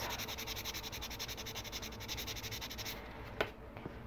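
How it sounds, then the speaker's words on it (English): Fine abrasive sanding along the edges of a hammered copper pin, a steady, soft rhythmic rubbing that continues close up, then stops near the end, followed by a small tap. "Get those edges sanded smooth as well."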